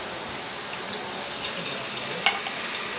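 Three split green chillies and curry leaves sizzle in hot oil, a steady close crackling hiss with occasional stirring clinks.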